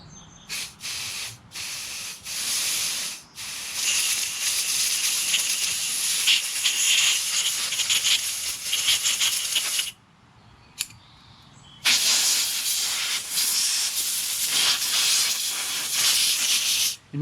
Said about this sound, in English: I'm using my air compressor and blowing out every hole.